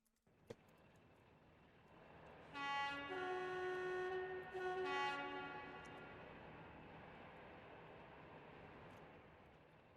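A train in the Train Simulator Classic game, on a South Lancashire and Cheshire route, sounds a loud two-tone horn in two blasts over a steady low engine rumble, with a short click at the start.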